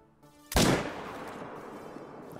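A single loud rifle shot at a moose in theHunter: Call of the Wild cracks sharply after a quiet lead-in, then rolls off in a long echoing tail across open taiga.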